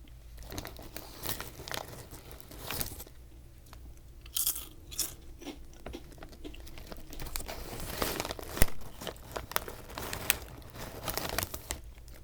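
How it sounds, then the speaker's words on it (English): Close, crisp crunching and chewing of Japanese potato chips, with irregular bites and crackly munching mixed with bag crinkles, steady and fairly quiet, no talking. "potato chips themselves are very crunchy"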